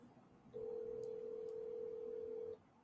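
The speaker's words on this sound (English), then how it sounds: "You can hear the phone" A telephone dial tone sounds on a phone call, a steady two-second tone that starts and stops abruptly over a quiet background.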